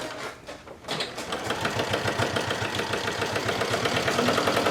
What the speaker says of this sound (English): go ahead and stitch to create a long strap